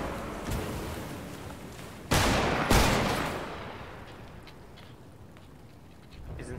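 Fortnite gunfire: two loud broadband shots burst out close together near the middle, with fainter pops before and after over a steady game ambience.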